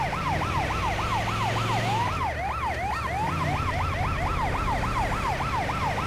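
An FDNY ambulance siren in the video game GTA 5 wails in rapid, repeating up-and-down cycles. It briefly shifts pattern partway through, then resumes the fast yelp, loud and steady with no talking.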